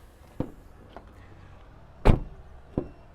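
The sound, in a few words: Renault Rafale car doors opening and closing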